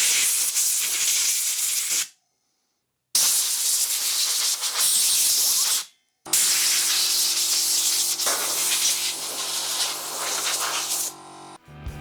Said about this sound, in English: air compressor.